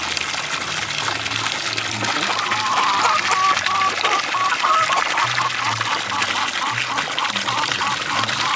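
Geese by a large water tub of about 80 to 100 litres give a few honking calls in the middle of the stretch, over steady splashing and trickling water and rustling background noise.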